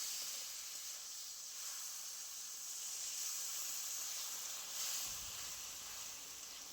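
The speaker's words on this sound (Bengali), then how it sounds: "তো এরপরে আমি অল্প জল দিয়ে ফুটিয়ে নেব।" Mango chutney simmering with a little water in a pan, giving a steady, soft hiss and bubbling sizzle that continues evenly throughout with no talking.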